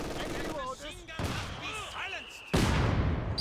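Vickers machine gun bursts in the Company of Heroes 2 battle game, short rattling volleys amid other distant gunfire and explosions, with a commentator talking over the action.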